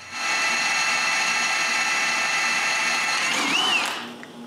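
A power drill boring bolt holes during a makeover of an X-Carve CNC machine, a steady high whine held for about four seconds before winding down, alone and close.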